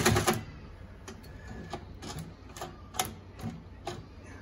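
A Consew 369RB-2 split-needle-bar high-post industrial sewing machine stitches fabric in short, regular mechanical clacks, close and moderately loud, with an initial burst followed by a steady ticking rhythm.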